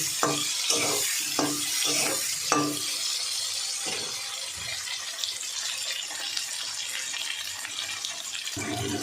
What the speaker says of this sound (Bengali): খুব লাল লাল করে ভাজবো এঁচড়গুলো